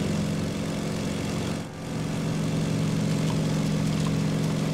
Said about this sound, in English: there's people getting ready to take off in planes and stuff.